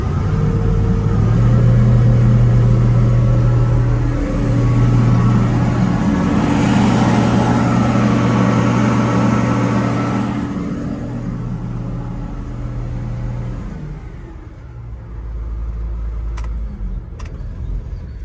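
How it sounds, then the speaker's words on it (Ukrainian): Diesel engine of a John Deere 1170 combine harvester in very good condition running smoothly at a steady idle, a continuous low rumble with a strong hum that eases slightly in loudness toward the end, with no voices. "Мотор працює дуже м'яко, плавно, нічого ніяких диму немає."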